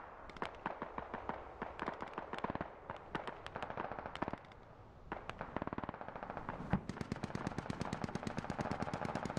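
Sustained automatic gunfire rings out in the video game Squad as suppressing fire, rapid bursts cracking loud and close in near-continuous streams with a short pause midway.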